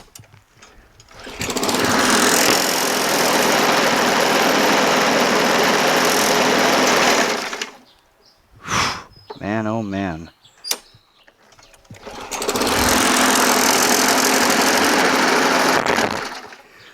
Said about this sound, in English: So the engine starts up just fine.